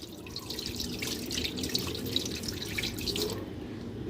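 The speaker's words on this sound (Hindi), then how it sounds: "तकरीबन आधे लीटर के करीब इसमें हम पानी डालेंगे" Water pours steadily into a large cooking pot on the stove for mutton raan, a continuous splashing, gurgling stream close by with no one talking.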